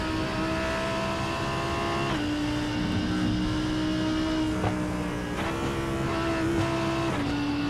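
A Lamborghini GT3 car with a 5.2 litre V10 engine in a sim racing game at Oulton Park, loud and sustained, revving high with sharp pitch drops at each gear change, no voices over it.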